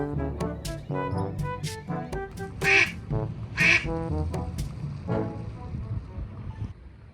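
A duck on a university campus quacks repeatedly in loud, nasal bursts, some spaced out and some in quick pairs, close by over a low outdoor rumble.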